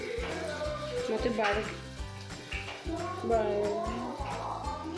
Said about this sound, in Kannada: ಗೋಲ್ಡನ್ ಕಲರ್ ಬರೋವರೆಗೂ ಫ್ರೈ ಮಾಡ್ಕೊಳ್ಳಿ ಆನಿಯನ್ನ